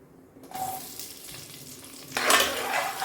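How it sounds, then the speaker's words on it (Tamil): Onions hit hot oil with fried cashews and whole spices for chicken leg piece biryani, a soft sizzle building into a louder, bright frying hiss with a few utensil clinks. "இப்போ இது பொரிஞ்சதுக்கப்புறம் வெங்காயம் போட்டுக்கலாம் பெரிய வெங்காயம்"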